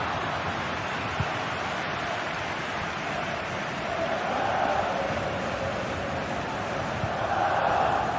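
A stadium crowd in a football video game roars in a continuous, broad wash of noise, swelling louder in waves, with faint voices underneath.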